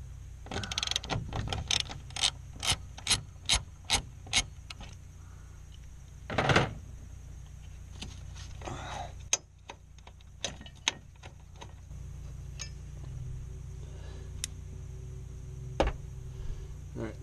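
Socket ratchet clicking in quick bursts while loosening the battery support bolt on a 2014+ Chevrolet Silverado, sharp close metallic ticks with short pauses and a few heavier clunks.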